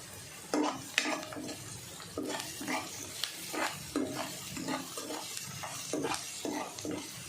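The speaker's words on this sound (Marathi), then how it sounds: "याला चांगलं व्यवस्थित जरा परतून घ्यायचं" A spiced potato filling sautéed in a pan, a steady sizzle broken by repeated rhythmic scrapes and stirs of a utensil against the pan, close by, with no talking.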